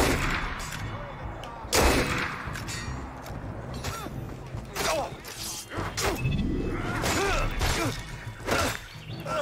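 Gunshots in Assassin's Creed Unity land as scattered sharp cracks and thumps over busy in-game ambience, with a few loud hits spread across the stretch and a voice briefly audible.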